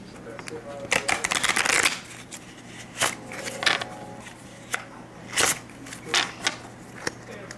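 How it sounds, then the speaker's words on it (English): A deck of playing cards is shuffled up close in a series of quick crisp riffle bursts with short pauses between, and a voice is faintly present in the background. "we're going to go ahead and shuffle this pile of cards right here"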